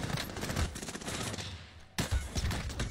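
Rapid bursts of gunfire in the shooter game Truy Kích crackle continuously, with a brief gap before another volley, moderately loud and alone without talk.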